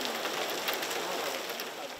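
Heavy rain in a flood-hit area pours down in a dense, steady roar of drops striking surfaces, loud and continuous throughout with no pauses.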